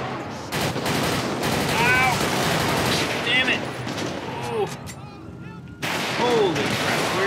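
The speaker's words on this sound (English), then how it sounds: "Holy crap, where am I getting shot from?" Sustained automatic gunfire in GTA 5 during a police shootout, dense rapid shots throughout, with radio chatter and a player's voice mixed in.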